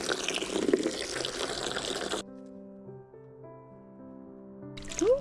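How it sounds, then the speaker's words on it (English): Cold tap water runs from a faucet for about two seconds as a broad steady rush, then cuts off, leaving a quieter tonal ringing before a short burst of water returns at the end. "Ooh, that's cold water."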